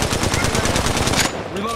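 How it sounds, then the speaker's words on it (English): Rapid automatic gunfire in the mobile shooter Apex Legends Mobile, a fast even burst of loud shots lasting over a second before cutting off, followed by a brief voice. "I'm taking shots."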